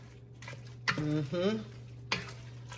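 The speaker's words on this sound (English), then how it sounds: "And then I'm adding shaki that I had already parboiled, okay? Beef tripe." Parboiled beef tripe dropped into a pot of egusi soup, a couple of soft stirring and sizzling bursts under a voice talking close by.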